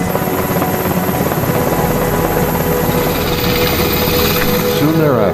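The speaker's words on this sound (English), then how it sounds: "soon board an HS-60 Seahawk helicopter and leave Nimitz" A Seahawk helicopter's loud, steady rotor chop and engine whine fill the whole stretch, with a voice briefly speaking near the end.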